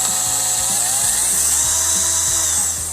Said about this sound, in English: The first tool it comes with is the drill driver.